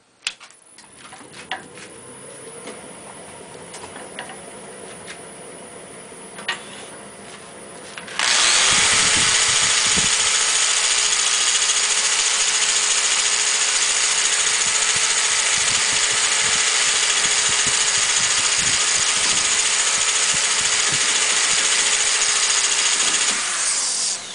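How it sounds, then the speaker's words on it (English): A power sander starts up with a loud, steady whine and runs continuously for a long stretch sanding wood, after a quieter stretch of scattered handling noises. "I'm going to get out the power sander, put a little sanding on it now"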